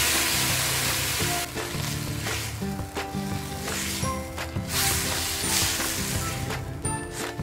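Tomatoes hit hot oil with browned ginger and pepper in a pan for a Chinese tomato and egg dish, giving a loud, constant close sizzle with intermittent scraping and clinking of a spatula stirring.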